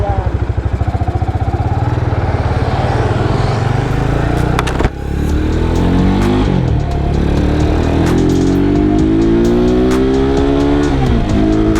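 Cars and motorbikes rev and pass close by on a busy road near a beach island entrance in Dasol, Pangasinan, with engine tones rising and falling continuously and people talking over the traffic.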